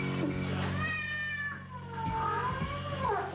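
A cat stuck in the rim of a tire meows loudly and plaintively, with drawn-out, wavering cries over a steady low hum that carries through the whole stretch.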